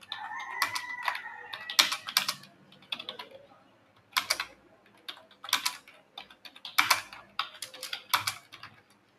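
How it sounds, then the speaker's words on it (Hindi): Someone types on a computer keyboard during a typing test, uneven bursts of crisp key clicks with short pauses between runs, close and alone without speech. "टाइपिंग खत्म हो गया"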